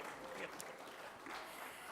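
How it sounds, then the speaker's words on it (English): Audience applause at a Q&A event with a film star, a dense, steady clatter of clapping from a crowd, fairly loud and sustained for the whole moment with no talk over it. "Let's hear a round of applause for that."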